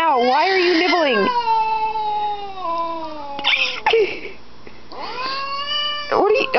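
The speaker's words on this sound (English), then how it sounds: "You meow." A cat meows repeatedly up close, long drawn-out wavering cries with rising and falling pitch, several in a row with short pauses between.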